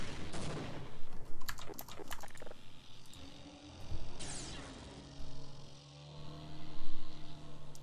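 Gunfire in the video game Half-Life: Opposing Force, with bursts of rapid shots in clusters and crackling weapon effects rising and falling over a low hum, alongside steady keyboard clatter.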